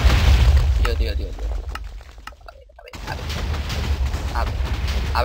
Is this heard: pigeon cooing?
no